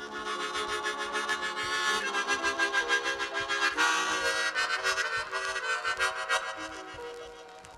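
Chords played on a chromatic harmonica give a full, organ-like sound. The dense reedy harmonies pulse in a steady rhythm and change over several bars, played alone at moderate volume.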